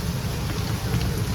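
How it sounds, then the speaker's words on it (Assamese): Steady rain pours down in a continuous, even hiss of drops striking surfaces, moderately loud and with no talking. "জাষ্ট 5 মিনিটমান বৰষুণ দিছে"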